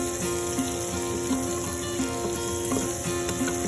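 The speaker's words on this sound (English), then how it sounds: "So now all the ingredients are in the instant pot and we will give it a stir" Curry ingredients being stirred in an Instant Pot with coconut oil and spices, giving a steady sizzling, frying hiss throughout with soft periodic scraping and knocking from the stirring, close and continuous.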